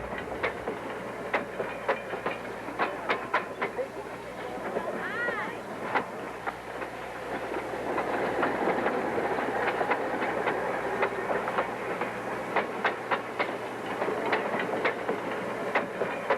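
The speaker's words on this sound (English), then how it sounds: "Then the passenger car is released to coast down to the bottom." A steam-powered tourist train on a redwood forest railroad, with a passenger car coasting down the rails, gives a continuous rumble and repeated clickety-clack wheel beats, heard throughout with a voice talking over it.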